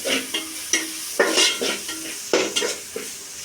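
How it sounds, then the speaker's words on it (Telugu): A spoon stirs spices and turmeric through a pan while preparing bagara rice, giving a run of repeated scraping strokes with a light sizzle, close and moderately loud, with no talking. "ఇప్పుడు ఒక స్పూన్ పసుపు వేసుకొని బాగా కలుపుకుందామండి"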